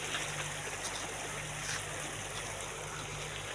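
Cold, clean stream water at a farm rushes steadily in a continuous broad wash with a low hum underneath, close and without talk.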